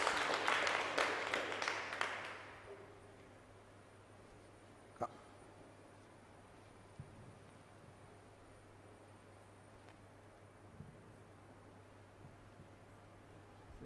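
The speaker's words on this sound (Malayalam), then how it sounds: "ഒന്ന് ശരിക്കും കൈയടിച്ച് കർത്താവിനെ മഹത്വപ്പെടുത്തുക" A congregation at a Christian retreat at Vimal Jyothi, Alwaye, gives a short burst of hand clapping that lasts about two seconds and then dies away into a quiet, humming room with a few faint knocks.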